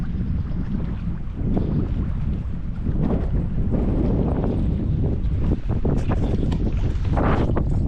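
Strong wind buffets the microphone throughout, a steady low roar with gusty rumbles, outdoors near open water.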